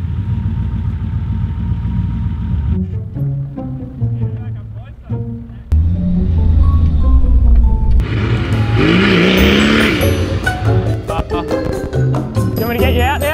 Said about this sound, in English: See, all four wheels are spinning.